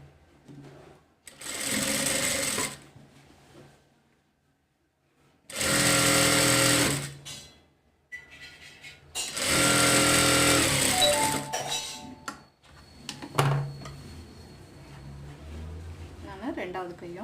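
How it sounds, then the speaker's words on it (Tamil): Sewing machine stitching a folded cowl sleeve hem for an umbrella frock, three loud bursts of rapid whirring separated by pauses, with soft handling noises between. "கீழே மடித்து தைச்சிடலாம்."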